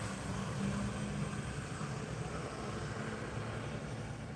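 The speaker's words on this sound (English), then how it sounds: "that object there that flew by, we'll assume it's a jet liner." A jet airliner passes overhead on a late morning, its steady broadband engine roar holding at a moderate, fairly distant level throughout with no talking.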